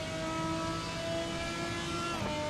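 Naturally aspirated V8 engine of a Silhouette series race car in the RaceRoom racing game, droning steadily at sustained revs with a strong tonal engine whine, no talking over it.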